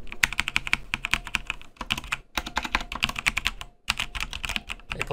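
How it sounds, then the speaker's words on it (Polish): Logitech keyboard keys clicking in quick, uneven bursts of typing, crisp and close, with short pauses between runs of keystrokes. "Ej, ale ten klik jest specyficzny, w sensie podoba mi się w chuj."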